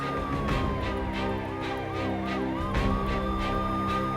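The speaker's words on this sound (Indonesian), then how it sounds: "Dahulukan mobil damkar lewat." A fire truck siren wails in a steady, looping up-and-down tone, loud and close, with rumbling traffic noise underneath and no talk.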